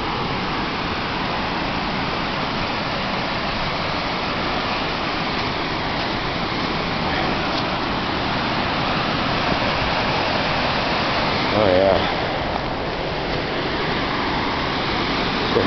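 Hungarian Falls in Michigan's Upper Peninsula pours heavily with spring snowmelt, a steady, loud rushing roar of falling water that stays constant throughout.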